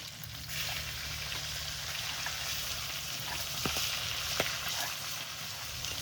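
Fresh river fish fries in hot oil in a home kitchen pan, giving a steady, even sizzle that runs throughout at moderate closeness, with a couple of brief clicks from the pan.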